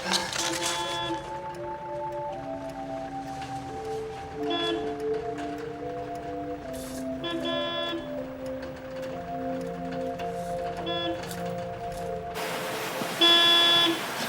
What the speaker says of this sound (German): Jetzt hör doch mal auf zu hupen